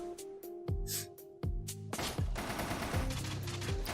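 Rapid in-game gunfire from Risk of Rain, a burst of repeated sharp shots over a steady background score, starting sparse then growing denser and continuous.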